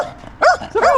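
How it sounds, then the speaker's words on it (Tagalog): A big dog gives two short barks, close and fairly loud, one right after the other, with nothing else heard. "Laki ng aso."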